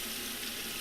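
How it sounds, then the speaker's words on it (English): A kitchen tap runs into a pot in a short, steady, soft hiss of flowing water. "you turn the water on"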